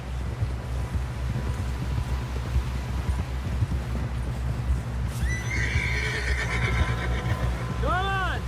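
A horse in the Red Dead Redemption video game neighs loudly near the end over steady clip-clop of hooves and wind, with voices talking throughout.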